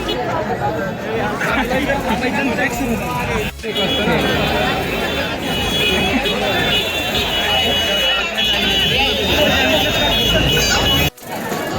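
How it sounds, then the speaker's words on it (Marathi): Dense crowd hubbub at the Pune Ganesh festival, a packed street near a Ganpati pandal, with many overlapping voices and shuffling, steady and close throughout with a brief dip near the end. "इथं पण लय गर्दी आहे गर्दी"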